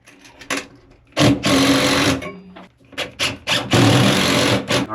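A power driver sets construction screws through metal strapping fastened to a beach chair storage rack, with two long loud bursts of whirring separated by a short pause and smaller clicks.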